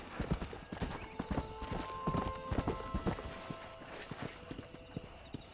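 A horse in the Red Dead Redemption video game walks with distinct clip-clop hoofbeats in an uneven rhythm, close and clear, with faint background game tones and no talking.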